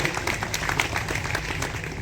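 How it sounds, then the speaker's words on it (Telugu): A church congregation at a Christmas prayer service breaks into applause, a dense, steady patter of many hands clapping at moderate distance. "మనం చేసిన ప్రార్థన దేవుడు ఆలకించాడని నమ్మిన వారికి నేను చప్పట్లు కొడతారా అండి?"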